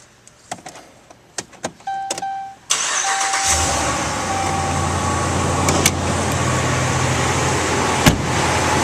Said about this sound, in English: Now we'll go start her up.